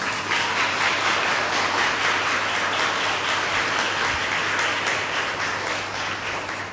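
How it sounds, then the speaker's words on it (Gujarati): A crowd claps steadily and densely for a group of seated students at a Gujarati book-talk event, a continuous wash of applause that holds level throughout and fades slightly at the end. "બીજી તાળી આપણે નિશાબેનના જે વિદ્યાર્થીઓ છે જે અહીંયા બેઠેલા છે બધા બાળકો માટે પણ આપણે તાળીઓ પાડીએ."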